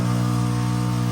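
A campervan water pump produces a steady mechanical hum with a low motor drone, running continuously and fairly loud, without breaks or voices.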